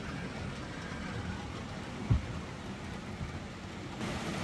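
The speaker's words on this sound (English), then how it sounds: "yeah, it's raining out." Steady rain outdoors on an off-grid property, a continuous soft hiss with a brief low rumble of thunder in the middle, no voices.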